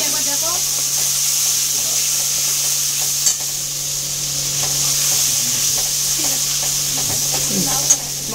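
Nigella seeds and a prepared spice paste fry in hot oil for a pomfret jhaal, giving a continuous hissing sizzle with a steady low hum, a couple of sharp pops, and a voice talking faintly underneath.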